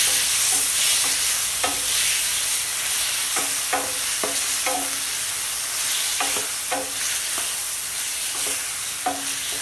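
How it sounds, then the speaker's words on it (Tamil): Chopped tomatoes frying in hot oil in a pan for channa masala, a constant soft sizzle broken by repeated clicks and scrapes of a spoon stirring close by. "இப்போ நம்ம கட் பண்ணி வச்சுக்கிட்டு தக்காளி இதில் சேர்த்துடலாம்."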